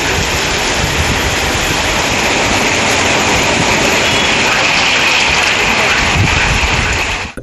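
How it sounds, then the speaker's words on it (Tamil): Heavy rain driven by strong, gusty wind pours down in Kovai, Tamil Nadu, a loud, dense and steady roar that fills the full stretch without a break. "காற்றுடன் மழை பெய்தது"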